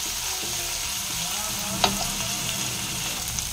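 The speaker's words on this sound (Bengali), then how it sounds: "পেঁয়াজটা ভাজা হচ্ছে" Onion fries in a pan with a soft, steady sizzle, close and fairly quiet, broken by a single brief clink midway.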